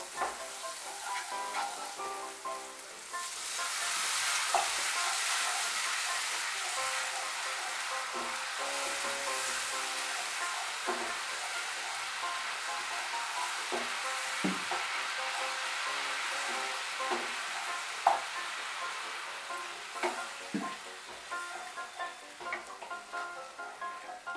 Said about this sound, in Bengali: মশলাটাকে আমি এখন ভালো করে কষিয়ে নেব